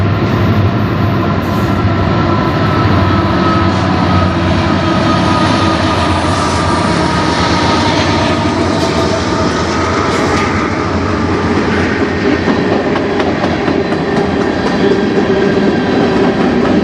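CN M382 manifest freight train led by four locomotives rolls past close by, a loud steady rumble and rattle of wagons holding through the whole stretch with no talking.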